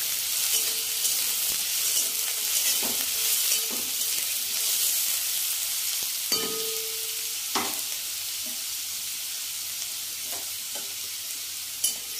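Chopped spinach stirred and fried in a pan, a steady close sizzle under intermittent scraping and clinking of a spatula against the metal, with no talking.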